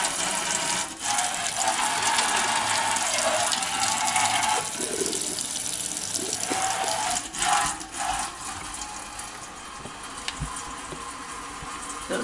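Water draining steadily down an unclogged kitchen sink after clearing with a 3/8-inch drain auger, a continuous close rushing gurgle with faint clicks, no talking.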